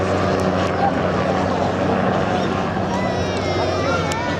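An autogyro flies at the Clacton-on-Sea air show in Essex, a loud continuous engine and propeller drone with freewheeling rotor blades, steady and close, mixed with outdoor crowd and wind noise.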